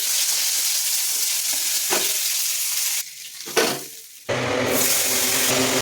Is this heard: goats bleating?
no